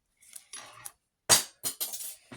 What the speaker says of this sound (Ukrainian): Пенцет впав.